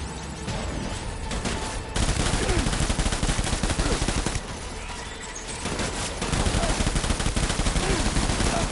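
Loud bursts of rapid automatic gunfire and shooting in the video game Death Stranding, dense volleys with brief lulls between them and a speaking voice faintly mixed under the shots.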